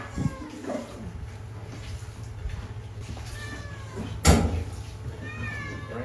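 Cats meow repeatedly around a cheese farm near Sorrento, several rising, wavering cries close by over steady background hum, with faint voices and one sharp knock partway through.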